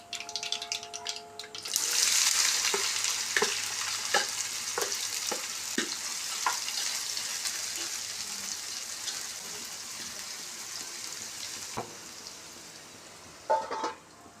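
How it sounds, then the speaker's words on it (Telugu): Bitter gourd pieces frying in oil, with a loud sizzle surging up then slowly fading, broken by repeated clicks and taps of stirring, close and without talk. "ఆయిల్లో ఫ్రై చేసుకోవాలి."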